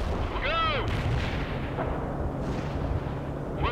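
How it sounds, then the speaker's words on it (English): Artillery strike firing in the real-time strategy game World in Conflict during a multiplayer match, heavy booming blasts rumbling continuously over a busy battlefield, with a brief whistling sweep near the start. "Artillery strike anywhere."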